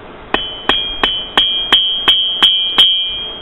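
Eight sharp metallic hammer blows ring out at an even pace as a metal arrow socket is flattened on the edge of an anvil, each strike close and loud with a bright ringing tail.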